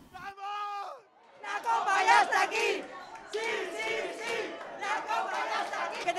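Villarreal fans celebrate their Europa League win: a brief horn-like blare, then a loud, close crowd shouting and chanting in waves, with voices talking over the din.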